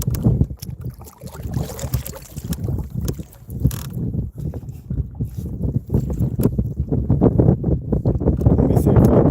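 Wind buffets the microphone on Conneaut Lake, Pennsylvania, a loud, low, rumbling roar with gusts that rise and fall without pause.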